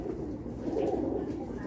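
A high-flying pigeon in Karachi, held close in the hand, gives a soft, low, throaty coo that rolls briefly and steadily.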